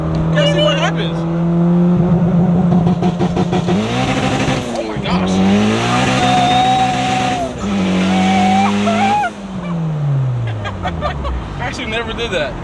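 A turbocharged Honda Civic engine revs hard through rising gears while tires squeal loudly, with excited voices in the car talking over the noise.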